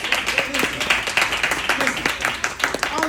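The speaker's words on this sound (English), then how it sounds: "Let's give David a hand clap." An audience claps hands together in a steady, dense round of applause lasting a few seconds, close and lively, with no voices rising above it.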